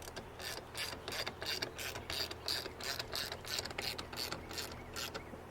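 A ratchet wrench tightens a bolt on a BuiltRight Industries rear seat release in a 2009-or-later Ford F-150, giving a quiet, close series of quick rhythmic clicks repeated steadily throughout.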